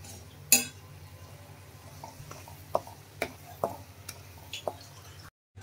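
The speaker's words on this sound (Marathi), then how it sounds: "तर हे सगळे मसाले आपण मिक्स करून घेऊया चांगले" Spoon scraping and clinking against a pan while spices are stirred together for paneer tikka masala, a handful of soft separate taps and scrapes at close range, no talk.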